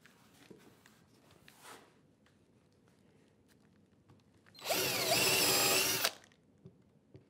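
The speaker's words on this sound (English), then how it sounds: "I'm going to drill this one as well, just the same way but with the offset holes" A power drill bores an offset screw hole into wood in one loud, steady burst of about a second and a half, with quiet workshop handling noises before and after.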